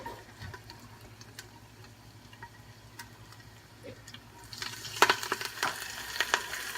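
Garlic with chopped basil and oregano frying in oil in a pan; a faint, low sizzle swells into a louder, crackling spatter partway through, with no voices.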